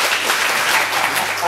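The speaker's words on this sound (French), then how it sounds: "je voudrais d'une part qu'on les encourage par les applaudissements" Sustained audience applause at a village variety show in Varennes, a dense, steady wash of clapping from a nearby crowd filling the whole stretch without a break.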